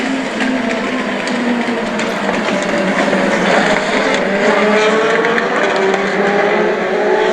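US Legend race cars roar around New Hampshire Motor Speedway at the green flag of a 12-lap race, a dense, loud pack of engines droning steadily with pitch sweeps as cars pass, no talk.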